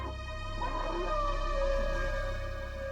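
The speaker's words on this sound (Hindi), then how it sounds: "आपने कुत्तों के रोने की आवाज सुनी?" Dogs whimper and whine at night in long, drawn-out wavering cries that rise and fall over a steady low background hum, with no other voices.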